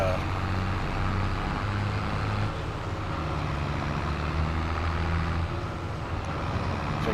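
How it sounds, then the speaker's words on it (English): A tractor engine labouring under load in Farming Simulator 25: a continuous low, droning rumble with a steady hum, loud and close, holding constant throughout. "This tractor is having a little bit of a hard time"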